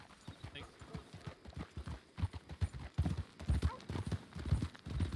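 Horse hooves clip-clop steadily in a wild-horse roleplay game, a quick, even rhythm close by, with voices talking over the hoofbeats.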